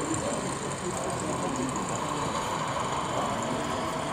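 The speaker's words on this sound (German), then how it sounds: "Und die fährt jetzt hier auf die Drehscheibe hoffentlich drauf." A 1:32 scale model locomotive rolls onto a manually operated turntable in a large-scale engine shed layout, giving a steady, continuous mechanical whir and rumble with faint rail clatter throughout.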